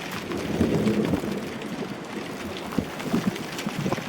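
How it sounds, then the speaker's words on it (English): Rain mixed with tiny pieces of hail falls on an RV parked at a docking spot under a sudden storm. It makes a steady, close patter with scattered sharper taps, and no one speaks. "Rain, little tiny pieces of hail,"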